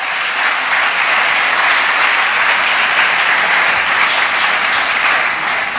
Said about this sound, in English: So they deserve a big, big round of applause.